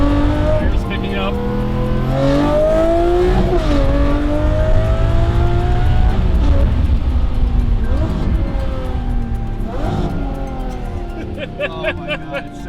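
Lamborghini engine revving loudly and close, rising and falling through several throttle blips with strong harmonic sweeps, under excited talk.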